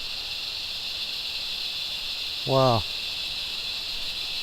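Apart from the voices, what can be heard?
cicadas chirping in the bush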